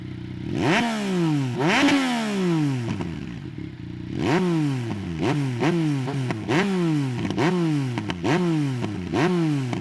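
Yamaha MT-09 from 2018 with an aftermarket GPR exhaust, revving hard in repeated rising bursts that climb and drop off, loud and close, a brief lull then a quick run of sharp throttle blips with no talking.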